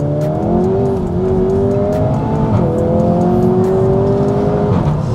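A SEAT Leon Cupra 300 engine revs hard on a wet road with wheelspin, loud and steady, its pitch climbing, dropping at gear changes and climbing again, with no talk over it.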